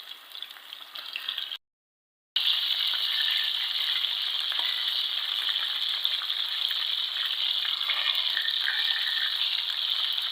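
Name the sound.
frying flour-coated chicken pieces in a pan until golden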